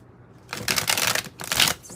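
Tarot cards shuffled by hand nearby, two quick riffling bursts of papery flutter with a short pause between them, no talking.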